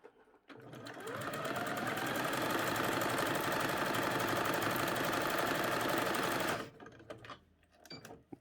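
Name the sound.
sewing machine stitching bodice and skirt edges together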